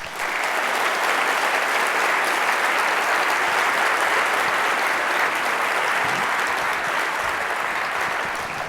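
A large lecture audience gives loud, sustained applause after a talk on AI at The Hinton Lectures. The dense clapping holds steady throughout and only eases slightly near the end.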